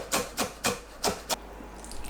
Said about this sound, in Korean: 파를 잘게 썰어주세요.